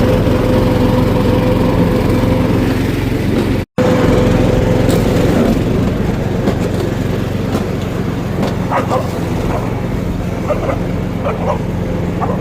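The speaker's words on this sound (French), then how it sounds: "je vais continuer de passer le tracteur tondeuse" A ride-on lawn mower drones steadily and loudly throughout with a constant engine hum, briefly cutting out for an instant near the start, with no talking.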